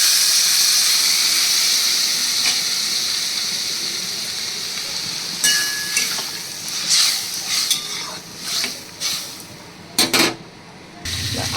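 Paneer and water going into a hot frying pan, a loud continuous sizzle and hiss that gradually fades, followed by bursts of spattering, stirring scrapes and clinks against the pan.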